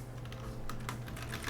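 Computer keyboard typing in rapid, irregular clicks and clacks during competitive multiplayer play of the game Hellish Quart, close and fairly quiet over a steady low hum, with no talk.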